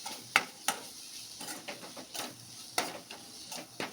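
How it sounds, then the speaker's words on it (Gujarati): A spoon scrapes and taps in a pan as a spiced broccoli and coriander paratha filling is mixed: quiet, irregular stirring strokes with a few sharper clinks over a faint sizzle. "બધું સરસ સારી રીતે મિક્સ કરી લેશું"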